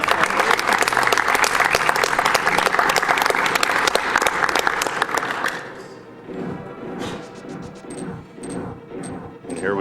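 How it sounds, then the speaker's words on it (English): Loud, dense applause from a convention audience at a live speedrun charity event fills the first half, then thins into scattered claps and background chatter. "It's okay to clap if you guys like that."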